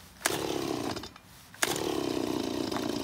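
Chainsaw just started after sitting through winter storage, idling with a loud rough buzz and two sharp bursts of throttle, close by with no talking over it.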